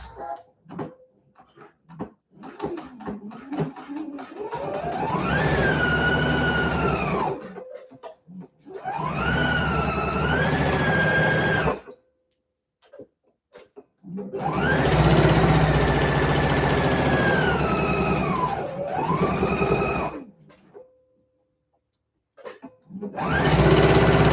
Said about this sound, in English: And I'm going to do a straight stitch.